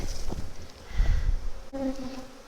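Honey bees buzz around an opened hive during a colony inspection, a steady, close insect drone that rises and falls, with a brief click partway through.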